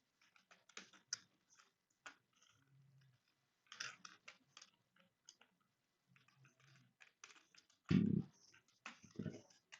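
Soft, close clicking of computer keyboard keys as chat messages are typed, coming in irregular bursts of quick taps with pauses between, plus one louder thump, and no talking.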